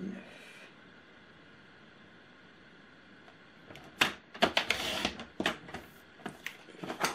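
Paper is cut for a mini advent album: after a quiet stretch, a burst of sharp, close scraping and slicing sounds comes in quick, uneven strokes over the last few seconds.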